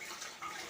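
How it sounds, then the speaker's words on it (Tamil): A child washes dishes at a sink under steadily running tap water, a continuous close splashing hiss with slight shifts in flow and no talking. "எங்கள் பாப்பா ஜாமான் கழுவுறா."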